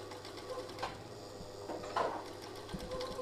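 A coverstitch binding machine sews binding onto the second armhole of a T-shirt, a steady close mechanical whir with a low hum and faint ticking clatter running continuously throughout.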